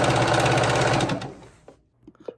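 Sewing machine hemming the bottom of a gathered maxi skirt, a loud, fast, steady mechanical whir close by that winds down and stops, then a few light clicks.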